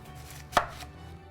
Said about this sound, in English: I'm going to take just the root end and the stem end off of that onion and cut it into quarters.